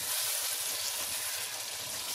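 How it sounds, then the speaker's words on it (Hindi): Mutton karahi fries in ghee with dried fenugreek, making a steady, dense sizzle close to the pan with faint stirring underneath. "अच्छी तरह भूनिए"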